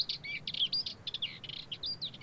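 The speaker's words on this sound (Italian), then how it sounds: "la magnanina che canta in questi cespugli preparandosi a nidificare" A Dartford warbler sings from low bushes on Giglio island, a quick scratchy warbling phrase repeated in short bursts, fairly close and clear over light background hiss.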